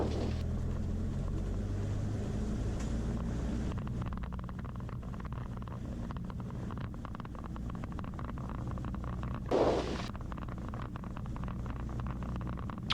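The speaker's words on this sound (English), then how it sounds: "so I'm going to run the engine up, and then we're good to go" A light aircraft's engine runs up before takeoff at Essendon Airport, a steady loud rumbling drone that holds throughout with a brief swell near the end.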